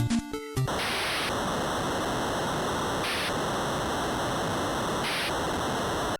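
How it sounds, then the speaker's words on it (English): A Nintendo Entertainment System noise channel gives a steady hissing static, loud and unbroken, with brief pulses overlaid at about two-second intervals after a short burst of choppy chiptune tones at the start. "The noise channel is what is used to create most of the drum sounds you hear in Nintendo games."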